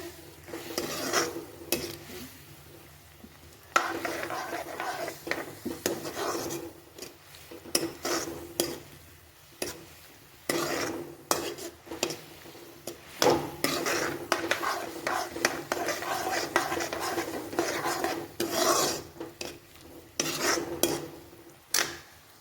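A spoon stirs yogurt in a pan over medium-low heat, making steady scraping and rubbing strokes against the metal that run almost without a break and come from close by.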